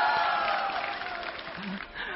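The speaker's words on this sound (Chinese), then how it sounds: "来，掌声欢迎。" Studio audience applause on a Chinese dating and confession talk show, a steady wash of clapping at moderate level that dips slightly toward the end, with a faint voice briefly underneath.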